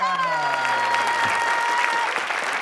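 A studio audience claps loudly and steadily throughout, with a bright sustained tone and a falling tone running under the applause.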